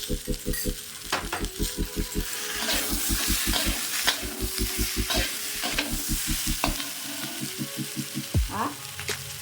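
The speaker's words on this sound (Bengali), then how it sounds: "আলুগুলি ভাজা হয়ে এসেছে এর মধ্যে আমি আদা বাটা রসুন বাটা এবং পেঁয়াজ বাটা" Fried potatoes with ginger, garlic and onion paste sizzle in a pan while a utensil scrapes and stirs in a quick, regular rhythm, with a few clinks near the end.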